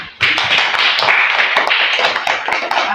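A class of schoolchildren clapping their hands in a classroom, a quick burst of sharp, uneven claps starting abruptly and continuing steadily nearby.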